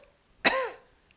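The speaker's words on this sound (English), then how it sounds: "lower belly, and cough." A single short, sharp cough during a seated chair yoga exercise, close and clear against a quiet room, fading quickly.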